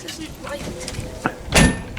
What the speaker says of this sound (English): You have to slam the door really well to make it shut.